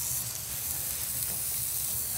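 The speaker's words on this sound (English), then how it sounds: "Listen to that sizzle." Brisket burgers sizzle on a hot griddle, giving a steady bright crackling hiss that stays close and even throughout, with no voices.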